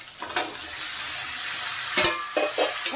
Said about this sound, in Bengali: এখন আমি আলু আর কাঁঠালের বীজগুলো দিয়ে দিচ্ছি মশলার সাথে।